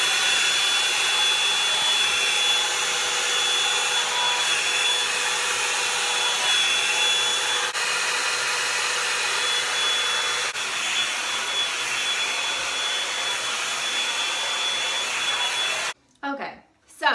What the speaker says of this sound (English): that is a little clip of what I do when I use that Revlon blow drying brush